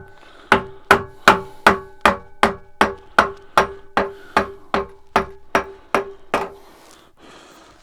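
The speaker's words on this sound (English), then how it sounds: "it's just obviously using a rubber mallet there so that it doesn't do any damage." A rubber mallet knocks a spindle out of an Axminster AT406WL/AT1628VS lathe: about fourteen evenly spaced, fairly loud, close knocks over six seconds, then quiet.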